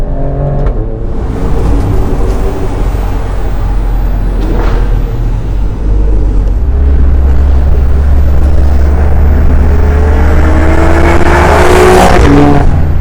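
A 2018 Alfa Romeo Stelvio Quadrifoglio SUV's loud engine roars and builds as it accelerates hard, heard from outside, the revving climbing in pitch, close up without any talking.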